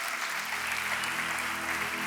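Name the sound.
audience applause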